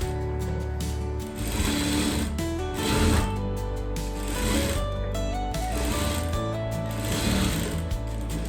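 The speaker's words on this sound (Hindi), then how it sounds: "तो ये मैं अभी इसको ऐसे सिल देती हूँ" A sewing machine stitches a plain blouse, running steadily for most of the stretch with a dense mechanical whir and background music or hum layered underneath, the motor pausing and resuming briefly.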